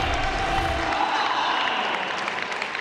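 Spectators at a Major League Table Tennis match, Smash versus Blasters, cheer and applaud as a steady, dense wash of clapping and crowd roar that eases slightly toward the end.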